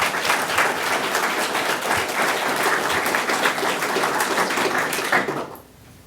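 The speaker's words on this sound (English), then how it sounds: "let's have a round of applause for Hunter." A crowd at a high school career signing day ceremony applauds loudly and steadily for about five seconds before the clapping stops abruptly.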